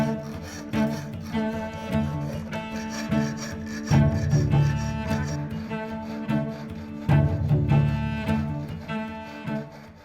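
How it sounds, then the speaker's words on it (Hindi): Sandpaper rubs rhythmically over a wooden surface during handicraft finishing, a steady rasping scrape under continuous background music. "सतह को सैंड पेपर की मदद से भी चिकना किया जाता है।"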